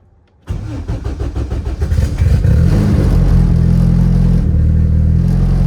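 A fully built, big-turbo Honda Civic engine cranks and catches, then settles into a loud, rough, uneven idle that steadies into a deep continuous rumble, close up and alone.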